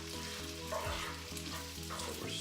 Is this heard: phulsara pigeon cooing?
no